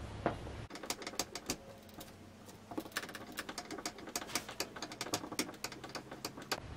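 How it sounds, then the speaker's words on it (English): Sharp, irregular clicks and ticks come quickly and close up as screws are driven in by hand to mount a wall shelf, a busy patter of small metallic taps over a quiet background. "So I am going to have to hand screw all the screws in."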